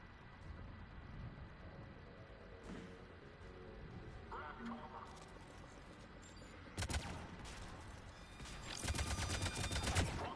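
Sniper gunfire in Mass Effect 3, scattered shots and bursts under a low background rumble, growing into heavier, louder volleys toward the end.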